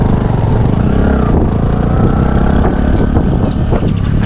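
Motorcycle ridden alongside a women's half marathon, engine rumble heavily buried under loud, constant wind buffeting the microphone, close and unbroken throughout.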